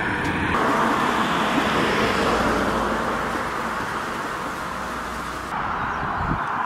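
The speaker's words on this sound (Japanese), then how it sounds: "やだな、車通り多いし。" Cars pass steadily along a busy road with no sidewalk in Tateyama, Chiba, making a constant broad rush of tires and engines that swells and eases, with no talking.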